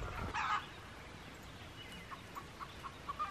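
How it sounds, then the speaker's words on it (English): Chickens loose outside their coop in the morning give a few short clucks, with one brighter call near the start and a run of small, faint clucks toward the end over a steady outdoor hiss. "we got another escapee chicken, huh?"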